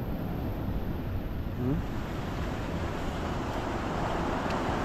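Ocean waves rolling onto a rocky shore, a broad continuous wash of surf with wind buffeting the microphone, steady and moderately loud without distinct individual breaks.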